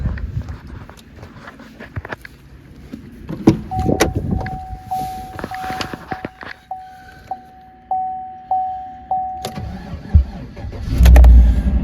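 A truck engine, jump-started with a Lokithor J400 12-volt jump pack, cranks in a series of rhythmic pulses under a steady chime, then catches and fires up into a loud running rumble at the end.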